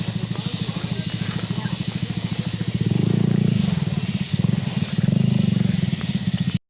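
A motorcycle engine drones loudly and steadily on a red-earth dirt road in Suoh, in Bukit Barisan Selatan National Park, West Lampung. It swells twice as the rider throttles up, then cuts off abruptly at the end.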